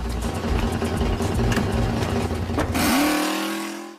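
A van pulls away, its engine revving loudly and steadily for about three seconds before fading off into the distance, with no talking.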